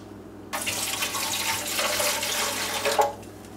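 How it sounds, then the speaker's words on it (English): White vinegar pours from a container into a Homedics ultrasonic humidifier reservoir sitting in a sink, a steady splashing stream of liquid lasting a few seconds with no talk. "I add about a cup of white vinegar to each one"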